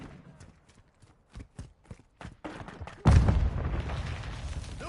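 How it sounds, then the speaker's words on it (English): A Semtex grenade in Call of Duty: Modern Warfare 2 bursts with a loud, sudden blast after a run of faint footstep-like taps, followed by a rumbling, hissing tail. "Semtex out!"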